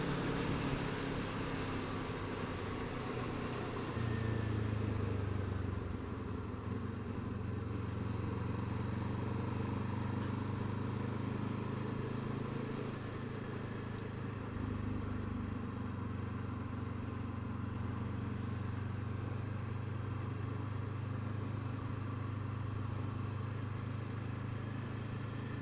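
Kawasaki Z7 Hybrid motorcycle running in eco hybrid mode with manual transmission, a steady low engine drone with road and wind noise throughout, the pitch shifting slightly as it rides on.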